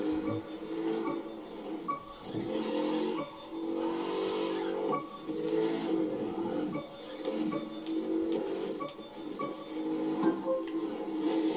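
A race car engine in The Crew 2 drones steadily with layered harmonic tones, rising and falling in pitch as it accelerates, loud and continuous throughout with no talking.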